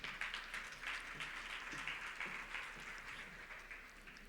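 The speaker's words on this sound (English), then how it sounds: "Let's give them all a round of applause." An audience applauds the panelists at a panel discussion on waste management and resource recovery, giving steady, moderately faint clapping that holds evenly for several seconds.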